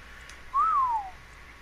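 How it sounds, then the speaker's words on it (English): A single whistle command in ARK: Survival Evolved, a short clear whistled tone that rises then slides down, heard alone over a quiet game background. "see if I can remember how to do the whistle commands"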